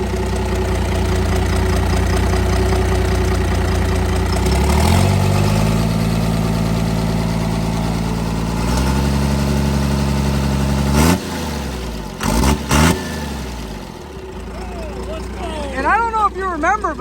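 A blown-up Cummins diesel engine in a burnout truck idles steadily and close, with its pitch climbing in stepped revs before it cuts out, then fires again in short bursts as a voice speaks near the end.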